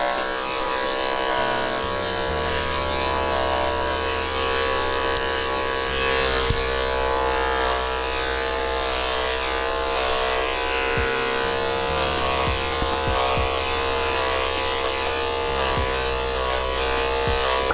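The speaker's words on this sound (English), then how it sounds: "we're going to do his legs and underside with a 2 snap-on comb" Dog clippers fitted with a snap-on comb on a 30 blade buzz steadily while grooming a Cockapoo's coat, a close continuous electric whir with brief changes in pitch as the comb moves through fur.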